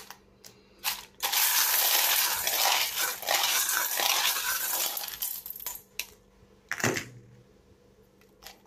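Divination charms shaken and tossed make a sustained rattling, clinking jumble for several seconds, close and fairly loud, followed by a few separate clatters as they land, with no talking.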